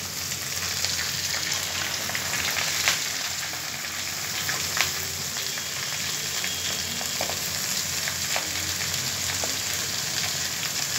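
Bottle gourd greens fry in a hot pan with a steady, close sizzle and crackle and occasional sharp pops, continuous throughout with no talking.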